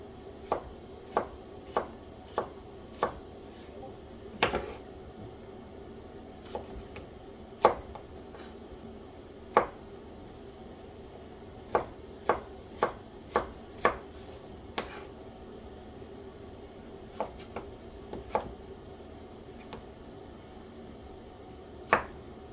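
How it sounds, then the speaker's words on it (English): A knife chopping vegetables on a board into half-inch pieces for ratatouille, sharp single chops falling in quick irregular clusters with short pauses, close and clear over a quiet room. "Just cutting in half and then cutting each of the pieces in half again."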